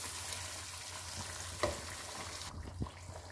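Achari chicken sizzles steadily in a pan over a medium-high flame, with one sharp clink of a utensil partway through and a soft stirring scrape near the end; no one speaks.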